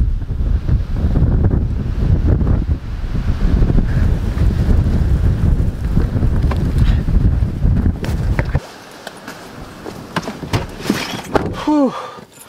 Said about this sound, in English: This is how windy it is outside.